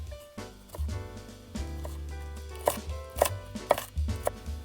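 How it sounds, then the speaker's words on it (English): A knife dices chili on a cutting board while Thai dishes are prepared. Steady, close, rhythmic chopping taps ring out over the board with no talking. "and then dicing is very easy."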